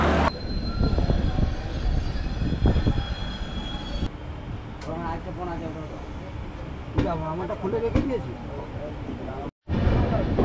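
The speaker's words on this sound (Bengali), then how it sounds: "আমাদের ট্রেন এখন কাশী স্টেশন পার করছে" The 12354 Lal Kuan Express rolls along Indian Railway track past Kashi station, with a loud rumble and clatter of wheels on rails, squealing tones and brief overlapping speech, ending in an abrupt cut.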